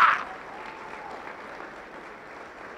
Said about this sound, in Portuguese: Vamos aplaudir ao Senhor por isso.